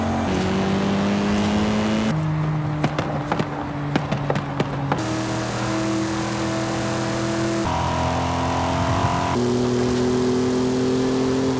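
Race car engines in the video game Forza 5, a run of loud, sustained engine notes that shift pitch as gears change, with several sharp clicks partway through and no talking.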